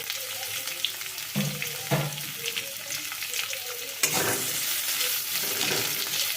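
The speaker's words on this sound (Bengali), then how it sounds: "আমি কিন্তু এখন লো ফ্লেমে রান্নাটা করছি আর একটুখানি ভাজা ভাজা করে নেব এটাকে" Chopped garlic, onion and slit green chilies frying over low flame in a pan, a continuous close sizzle with a few scraping stirs and a louder surge of hissing partway through.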